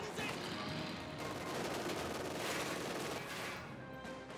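Machine gun bursts in the World War II strategy game Company of Heroes 2, dense rattling fire throughout at a fairly faint level, mixed with battle ambience and a low voice now and then.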